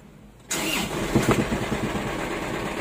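An Isuzu 4JB1 diesel engine cranks and catches at about half a second, then idles steadily with a rough, noisy transmission rattle running underneath, loud and close.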